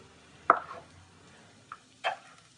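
Chopped carrot, celery and onion drop into a pot for a sofrito, giving two soft thuds with a brief clatter between them, close by and with no talking.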